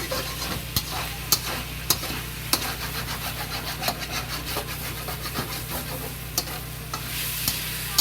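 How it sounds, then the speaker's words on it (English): Ginger, garlic and scallion frying slowly in a pan, giving a soft, steady sizzle under a low hum, with light clicks of stirring scattered throughout. "Slowly fry."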